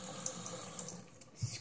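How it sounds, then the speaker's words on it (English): Bar of soap held under a running tap, with a quiet, steady hiss of flowing water and a small splash near the end. "take another bar of soap, put it in some water"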